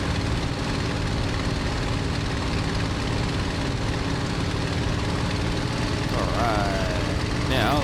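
A Bf 109G-6 warbird flies over Duxford in the MSFS 2020 video game, its simulated propeller engine a loud, constant droning roar that fills the clip, with a brief rising whine near the end.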